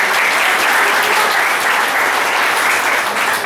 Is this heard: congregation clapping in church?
yes